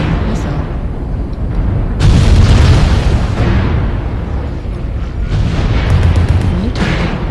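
Missile explosions in the MechWarrior Online open beta, a heavy booming blast that rolls on for several seconds and swells again near the end, loud and continuous with dense low rumble.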